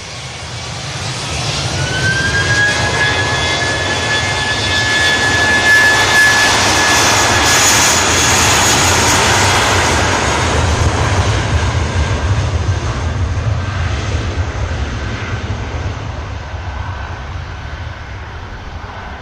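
A Vueling airliner on the return leg to Barcelona roars past at an airport, its jet engines swelling to a loud sustained rumble with a rising whine, then slowly fading, no talk over it.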